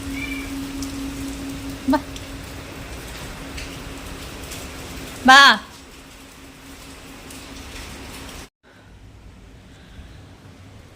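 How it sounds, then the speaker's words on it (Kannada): Steady rain falls on surfaces, a continuous soft patter with a brief loud clatter midway, and a voice calls out briefly over it before the rain sound cuts lower. "ಮಳೆ ಬರ್ತಿದೆ."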